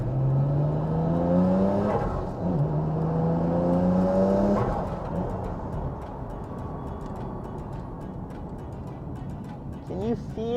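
Nissan Skyline GT-R R34 engine revving and accelerating on a road in Japan, a loud rising tone climbing through gears in the first few seconds, then settling into a steadier cruise with some talk over it.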